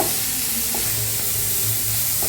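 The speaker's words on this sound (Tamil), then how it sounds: "இதை நல்லா கலந்து விட்டுடுங்க" Mutton spleen fry sizzles loudly and continuously in a hot pan with ginger and garlic while it is stirred, a dense close hiss with occasional soft scraping.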